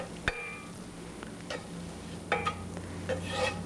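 Sautéed vegetables being scraped from a pan down into a large bowl in a home kitchen, with a few scattered scrapes, taps and rubbing strokes over a steady background hum.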